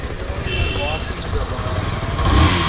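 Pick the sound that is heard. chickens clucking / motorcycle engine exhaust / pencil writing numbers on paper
motorcycle engine exhaust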